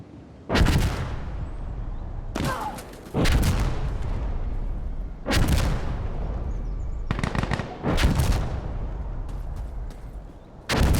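Loud gunfire and artillery-like blasts in the military shooter Insurgency: Sandstorm, coming as several heavy, booming bursts with short gaps between them, some overlapping into long rumbling volleys, with no talking.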